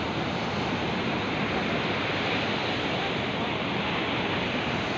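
Sea waves at Mypadu beach in Nellore roar as a continuous, broad wash of surf with wind, steady and fairly loud throughout, with no clear speech.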